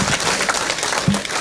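A studio audience claps steadily and evenly through a short stretch at the close of a televised discussion panel, with no voices over it.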